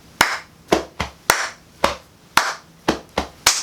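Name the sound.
hand clapping rhythm as body percussion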